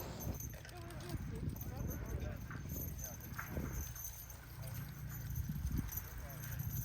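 Mule hooves clopping along as it is ridden on a wagon train outing, a soft uneven walking rhythm heard beneath someone talking nearby.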